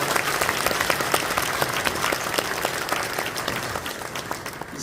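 A large church congregation applauds at a thanksgiving service for retiring elders and a pastor's installation, thick steady clapping loud and close throughout, slightly thinning toward the end.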